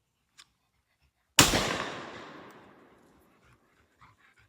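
A shotgun fires at a clay skeet outdoors: one loud, close blast with a long rolling echo that fades over about two seconds, followed by near silence.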